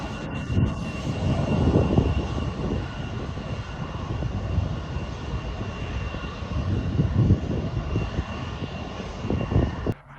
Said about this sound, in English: This plane touched down too early, destroying its landing gear before veering off the runway.